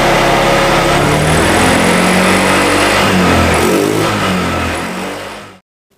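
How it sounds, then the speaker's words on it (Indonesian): An automatic 125/150 scooter engine revs loudly and close under throttle, a high buzzing whine that climbs and wavers, then dies away abruptly into silence near the end. "Setelah hidup saya akan coba gas."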